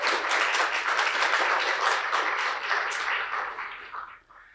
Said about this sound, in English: can we get a round of applause for Christie Blizard?